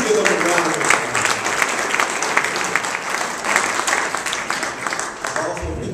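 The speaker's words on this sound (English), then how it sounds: "Please give them a round of applause." Steady, dense audience applause for elected officials at a Sacramento press conference, sustained for several seconds at a fairly loud level.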